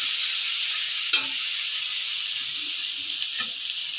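Spice masala with green chillies fries in hot oil, giving a steady, close sizzling hiss, with a sharp clack of a stirring spoon against the pan and a few softer scrapes later.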